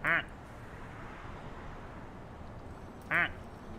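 A duck gives two short, loud nasal quacks, one at the start and one near the end. A quiet steady background runs in between and no one speaks.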